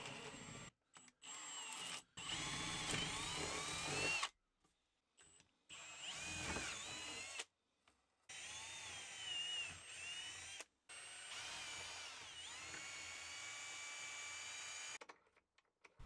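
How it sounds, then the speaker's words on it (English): A power drill whines in several bursts of varying length, pitch shifting as it bites into a wooden door, separated by short silent gaps. "I drill the holes from both sides of the door to make sure that they are aligned."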